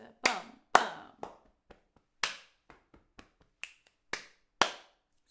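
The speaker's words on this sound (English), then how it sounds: "And it has a double clap." Sharp hand claps ring out alone in an uneven rhythm, some spaced singly and some in close pairs, each crisp with a short decay, interspersed with faint soft taps.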